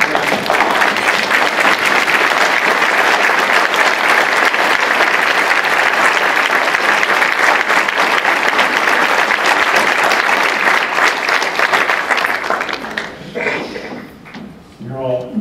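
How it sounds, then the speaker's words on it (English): An audience applauding caretakers at an Alzheimer's event, loud dense clapping from a large crowd that holds steady for about twelve seconds before thinning into scattered claps and a few voices. "If you're a caretaker, please stand up so we can applaud you."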